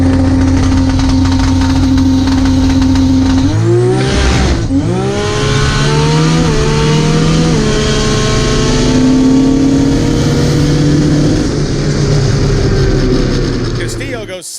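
Toyota Supra street car on a drag run, engine screaming at full throttle, a sharp gear change near the start and then a sustained high-revving pull, loud and close, with a faint voice talking in the background.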